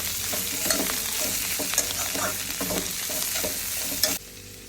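Chopped vegetables with red chili powder get stirred and mixed in a pan, with repeated scraping strokes of a spoon over a continuous sizzle, then the noise drops abruptly near the end.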